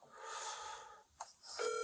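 Push-button telephone dialing tones sound as an Escambia County Sheriff's Office investigator calls out on a phone, a few short clear beeps at the end after a stretch of soft hiss and a brief click.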